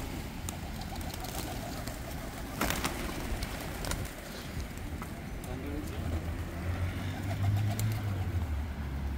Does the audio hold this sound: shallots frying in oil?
no